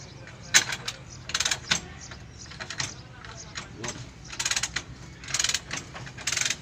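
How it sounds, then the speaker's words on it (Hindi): A wrench on a tractor front tyre is released during repair, giving quiet ratcheting and mechanical clicks and knocks at close range, with low background rumble. "ये रेंच लगी हुई है, तो अब इसे जैसे रिलीज़ करेंगे"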